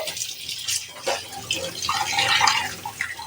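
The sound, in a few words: washing an iron wok with water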